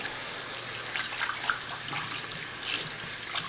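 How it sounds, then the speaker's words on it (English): Hands are rinsed under a running bathroom tap, a steady close hiss and splash of water with small shifts as the hands move through the stream, with no talking. "And I take a while rinsing too. I don't want any soap on my hands."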